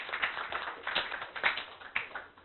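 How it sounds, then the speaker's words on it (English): Audience applause at an intercollegiate summer internship project competition, a faint, thin patter of clapping from a modest crowd lasting a couple of seconds. "a great round of applause"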